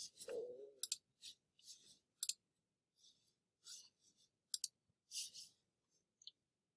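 Sharp, dry computer mouse clicks come in a scattered, irregular series, close and fairly quiet against near silence, with a brief faint voice at the very start.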